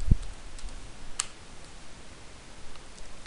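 Keys on an AZERTY computer keyboard tapped while typing into a search engine, a few light, sparse clicks spread out over low room noise, close by and with no talking.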